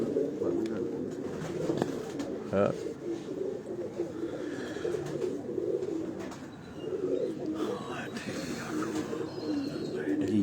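Pigeons coo softly on a Lahore rooftop at night, low repeated cooing murmurs running throughout, with a brief spoken reply and some nearby talk.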